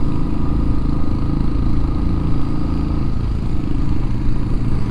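An old-model Royal Enfield Classic 350 engine pulls uphill in second gear with a loud, steady, close thumping drone and a clattery mechanical edge throughout.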